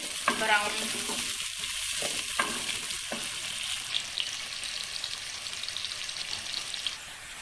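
Chopped onions sizzle and crackle in a hot pan for a light browning, with a few stirring scrapes early on, then a steady close frying hiss throughout.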